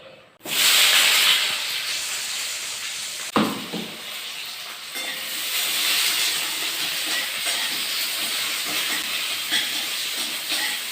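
Onion dropped into hot oil in a pan at home: a sudden loud hiss as it hits the oil, then a steady, strong sizzle that softens slightly, with a second sharp surge of sizzling partway through as it is stirred.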